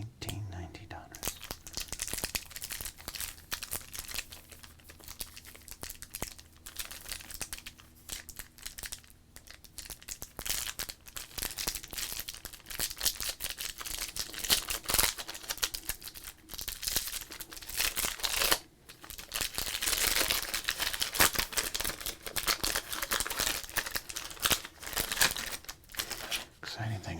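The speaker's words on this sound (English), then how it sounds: "let's do a little crinkle and then a rip. Opening 1990 Donruss." Cellophane wrapping on a 1990 Donruss baseball card cello pack crinkles and rips open, a steady run of close, crackly plastic rustling and tearing that carries on throughout, with soft speech mixed in.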